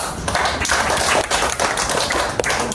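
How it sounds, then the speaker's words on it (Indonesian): A school class claps their hands for a student after a presentation: a busy, dense patter of many hands, steady and fairly loud, with no voices over it. "Tepuk tangan."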